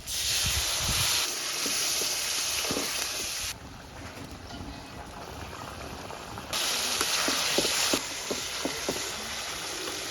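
Crab fried in cooked spiced oil gives a loud, hissing sizzle that surges and eases in waves, with crackles and knocks of the pan and spoon close by, no voices.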